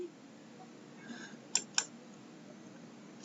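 Mouse clicks on a computer while navigating pages of a Canvas online course: two sharp clicks close together in the middle and a third near the end, faint and isolated over a quiet room hum.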